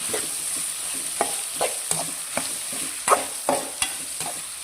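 A spoon stirs avarekalu upma in a frying pan, making irregular knocks and scrapes against the metal over a soft sizzle, close and moderately loud, with no talking.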